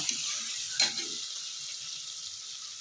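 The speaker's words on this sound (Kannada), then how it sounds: "ಶುಂಠಿ ಬೆಳ್ಳುಳ್ಳಿ ಪೇಸ್ಟ್ ಹಾಕಿ ನೀಟಾಗಿ ಫ್ರೈ ಮಾಡ್ಕೋಬೇಕು ಈ ಥರ" Ginger garlic paste fries in a pan for an egg biryani, giving a steady close sizzle with one brief stirring scrape near the start.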